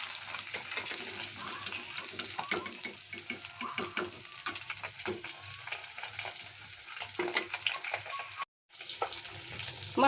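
Koi fish are lifted out of hot frying oil in a pan, with a steady crackling sizzle and light scraping that briefly cuts out near the end.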